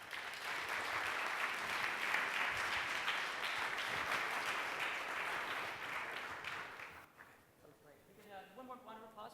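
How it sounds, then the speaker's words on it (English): An audience applauds a panel at a GitHub Universe 2015 open-data conference session. Steady, dense clapping fills the hall for several seconds, then fades as a voice begins speaking. "One more round of applause for the panel, please."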